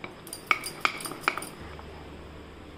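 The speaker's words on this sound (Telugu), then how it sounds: "ఇలా సాఫ్ట్ గా వచ్చిన వరకు కలుపుకోవాలి బాగా" A spoon stirring vanilla mug cake batter inside a mug, three or four distinct clinks against the sides at a slow even pace, soft and close, then a quiet tail.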